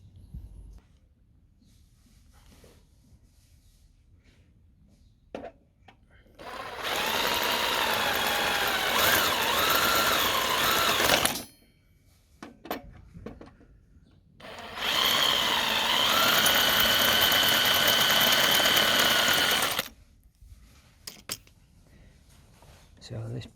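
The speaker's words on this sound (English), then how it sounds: "I'm going to drill these rivets out, drop this iron down," A power drill bores out rivets on a 5-inch gauge Class 31 diesel locomotive model, running in two loud sustained bursts of several seconds each with quieter workshop pauses between them.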